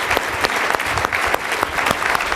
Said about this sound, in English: let's give Neel a great round of applause for being here today